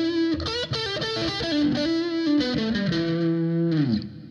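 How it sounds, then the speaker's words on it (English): An electric guitar with distortion runs through the E blues scale in a box pattern, in quick connected notes that finish on a held, bending note that fades out. The playing is close and steady, with no talking. "They'll just play the blues scale in a pattern."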